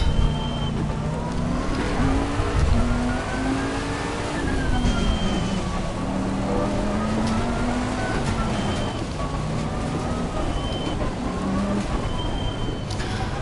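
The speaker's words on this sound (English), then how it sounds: "it's pissing down rain and the visibility is not great as it is" Heavy rain drums steadily on a race car in flooded conditions at Monza in Assetto Corsa Competizione, with a constant loud wash of spray and downpour mixed with the car's engine note rising and falling as it drives.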